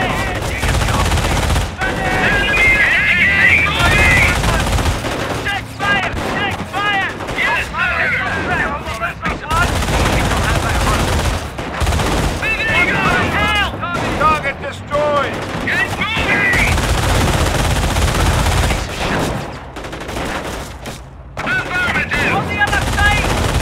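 A half-track's machine gun chatters in a war video game, rattling in loud repeated bursts among other gunfire and explosions, while voices call out over the battle.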